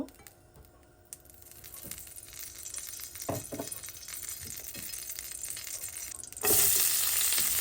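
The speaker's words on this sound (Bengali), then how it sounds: "এখন কড়াই সামান্য পরিমাণ তেল দিয়ে দিব" Oil heats and sizzles in a kitchen wok (kadai) with a soft, steady crackle and a few scraping clicks, then a sudden louder hiss near the end as more goes into the pan.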